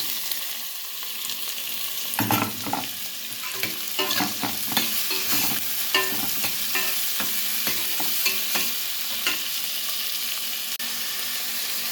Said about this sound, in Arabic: هندبل بس البصله، مش هنديها لون